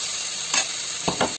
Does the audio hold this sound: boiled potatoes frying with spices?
yes